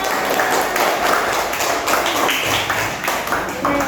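Audience clapping after a group presentation in a teacher coaching session, a dense, steady patter of many hands through the whole stretch, fairly close and moderately loud, with a few voices mixed underneath.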